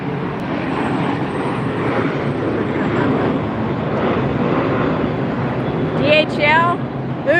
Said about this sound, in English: No, that's JetBlue taking off.